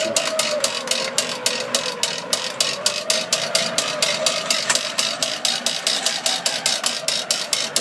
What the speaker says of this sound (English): And let's just wind it back in now.